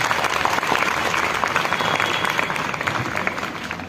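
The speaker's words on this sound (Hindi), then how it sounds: "तालियां उतनी जोर से नहीं बजी हैं" An audience at a rally in Meerut applauds with steady, dense clapping that stays loud and even throughout.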